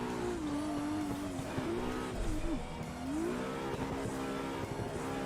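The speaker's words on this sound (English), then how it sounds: "So mid-drift here, I'm full gas, but any tweaking I need to make, I use the foot brake" A car held mid-drift at full throttle in a drift racing game, its engine droning steadily near the limit with small pitch dips and tire noise underneath, continuous and close.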